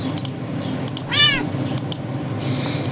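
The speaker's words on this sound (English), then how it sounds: "Your thoughts are interrupted when the cat yowls loudly, tensing up in your lap." A cat yowls loudly once, a rising-and-falling meow lasting about a third of a second, alone over a low ambient hum with faint clicks scattered around it.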